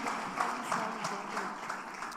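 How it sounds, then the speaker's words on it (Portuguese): A church congregation applauds together during a celebration service, a steady, moderately distant wash of clapping that carries on throughout without a break. "Vamos aplaudir o Senhor."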